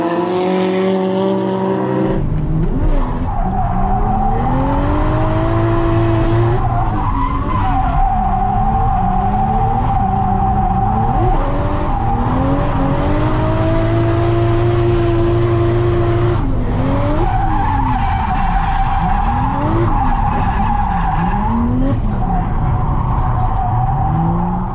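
A Toyota Cresta JZX100 drifting, its tires squealing in long, wavering screeches over a strained, revving engine that rises and falls with each slide, loud and continuous throughout.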